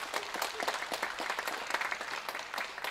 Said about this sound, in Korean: 모두 축하의 박수 부탁합니다.